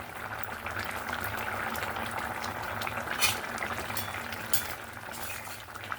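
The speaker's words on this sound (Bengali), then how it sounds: "এখানে দেখুন তরকারিটা ভালোভাবে ফুটে গেছে, একদম টকবক করে 2-4 মিনিটের মতো আমি ফুটিয়ে নিয়েছি" A thin, light Bengali fish curry bubbles hard in a pot, a continuous close simmering burble with occasional louder pops and no voices.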